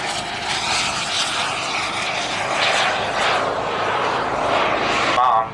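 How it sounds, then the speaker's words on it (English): A model airplane's small piston engine drones loudly and steadily at an RC airshow, with a buzzing propeller tone that rises and falls slightly, cutting off at the end. "the piston engine had to take over"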